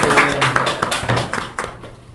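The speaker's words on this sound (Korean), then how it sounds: "네, 박수 한번 주세요." A room of attendees at a district council research-group final report meeting gives a round of applause, brisk clapping strong at first, then thinning and fading out toward the end.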